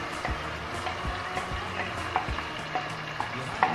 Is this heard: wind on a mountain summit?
no